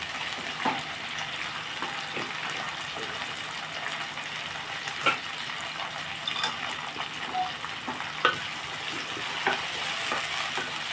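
Upma ingredients, wheat rava among them, roast in a pan with a continuous dry sizzle and soft, regular stirring scrapes and taps, close and moderately loud, with no talk.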